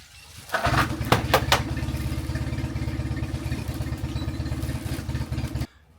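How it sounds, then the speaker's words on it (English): An outboard motor on a sailboat at a marina cranks and catches, then settles into a steady, loud clattering idle for several seconds before cutting off abruptly. "we are gonna try to start the engine"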